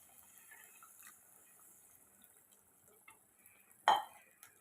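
Coconut-rinse water from a mixer jar is added to a pot of chicken curry (kulambu): a near-silent stretch, then a single brief splash of liquid near the end.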